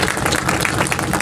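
Audience clapping at a Sant Ravidas Jayanti gathering on the Red Fort grounds in Delhi, a brief, loud, dense round of applause with no break.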